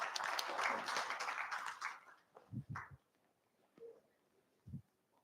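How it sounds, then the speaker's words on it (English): Conference audience at the IIMS-India Conference 2025 clapping for prize winners, a busy burst of applause that thins out and fades, followed by a few isolated low thumps in a quieter room. "Please give a huge round of applause to the winners"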